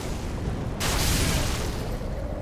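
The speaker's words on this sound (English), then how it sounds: "let me see if the Great Chaos Fire Orb does any better" A Great Chaos Fire Orb spell in Dark Souls 3 bursts into a sudden broad fiery explosion that blooms partway through and roars on over a low rumbling background.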